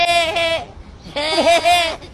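A voice imitates a goat or sheep, giving two drawn-out, wavering bleats close to the microphone with a short pause between them.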